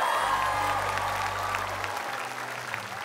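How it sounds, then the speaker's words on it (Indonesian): A studio audience at an Indonesian comedy variety show claps for Ari Tulang, a steady wash of applause with faint cheering and a low musical tone sustained underneath. "Ini dia tepuk tangan buat Ari Tulang"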